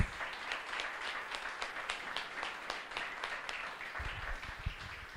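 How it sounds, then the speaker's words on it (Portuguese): A church congregation applauding during a service, moderately faint, steady ragged clapping throughout, with a few low thumps near the end. "Mais palmas para Jesus."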